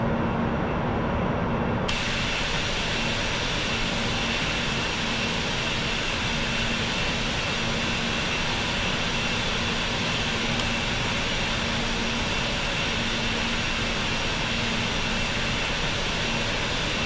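Jet engines of an Emirates A380 in Real Flight Simulator roar steadily at takeoff from Dubai, a loud constant broadband drone that swells near the start and continues unbroken with a faint steady tone.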